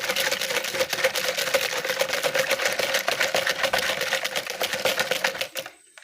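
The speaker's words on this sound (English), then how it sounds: "I always use my whisk." A whisk beats liquid soap in a rapid, even rhythm of fast clicking, sloshing strokes, close and steady for several seconds before stopping abruptly.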